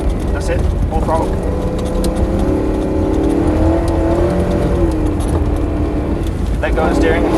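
A rear-wheel-drive car's engine revs under rising throttle while drifting, a loud, sustained, wavering drone that climbs and dips, with an instructor's voice talking over it throughout.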